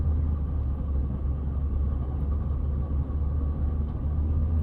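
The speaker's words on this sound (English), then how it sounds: "My car's making some interesting sounds" A car rumbles steadily at low pitch from inside while driving down a small-town church street in Lynn, Indiana, with a dull, even engine drone and no clear distinct odd noise standing out.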